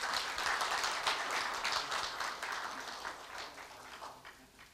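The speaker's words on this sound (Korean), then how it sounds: "큰 박수 부탁드립니다" Applause from the audience at a Korea University staff retirement ceremony, a steady patter of many hands clapping that gradually fades, fairly distant and soft in the hall.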